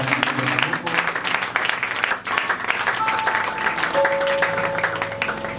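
A church congregation breaks into sustained applause and cheering, a dense wash of clapping filling the room, with a faint steady tone emerging partway through.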